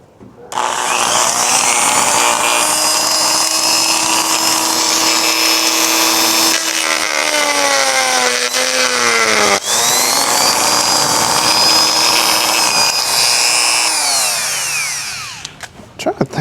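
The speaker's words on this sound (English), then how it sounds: "I'm trying to grind it down instead of cutting it off." A power tool grinds down a part during a rear tire and brake repair, a loud continuous whine that shifts pitch under load and runs steadily for about fifteen seconds before winding down.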